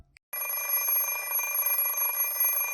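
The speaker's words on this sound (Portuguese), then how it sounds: "Rin acorda com seu despertador" An alarm clock rings with a bright, continuous metallic trill that starts abruptly after a moment of quiet and holds steady and close until the end.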